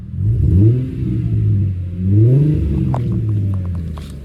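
A 2003 Mercedes-Benz E 320 engine revs up twice with rising, throaty exhaust roars, close by, then settles to a steady rumble with a few faint clicks.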